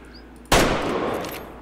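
A single loud 7mm-08 hunting rifle shot in the Way of the Hunter video game, on a Scandinavian hunt; a sharp crack after a quiet pause, followed by a long, fading echo.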